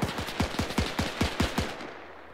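Machine gun fire in 82AD Liberation: a fast, evenly spaced burst of about eight loud, punchy shots over roughly two seconds, ending in a short fading echo.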